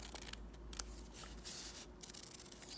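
Scissors snip out a paper letter L in a quiet room, giving a few soft, close crisp cuts and rustles of paper with no talking.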